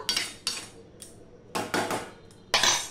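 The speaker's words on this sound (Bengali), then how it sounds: "এবার আমি ঢাকা দিয়ে দিলাম" A lid set down on a cooking pot of drumstick (sajane data) curry, giving several separate metallic clanks and clatters close by, with no talking.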